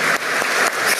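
Steady, dense applause from a crowd at a ceremony for the Day of the Defenders of Democracy, honoring a retired Peruvian National Police officer, filling the whole moment at full strength without pause.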